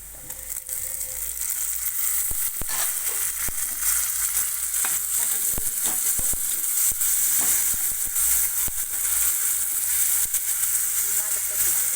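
Onions frying in a pan for a Marathi-style chicken curry, browned to red, give a steady loud sizzle with stirring scrapes running throughout.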